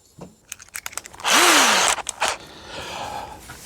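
Ozito battery power tool running in a home workshop, a loud steady whir of about half a second that spins down, set between sharp clicks and handling knocks.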